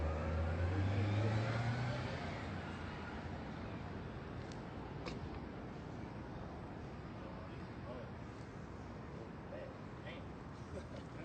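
A car passes on a street, its engine noise strongest and closest in the first two seconds, then fading into a steady background rumble while people talk nearby.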